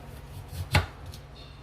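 A knife slicing an onion into thin pieces on a cutting board, one sharp, close chop standing out over faint soft kitchen sounds.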